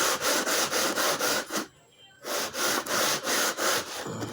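Sandpaper is rubbed back and forth on a wooden violin bass bar in steady, loud, close strokes, with a brief pause partway through before the rasping rhythm resumes.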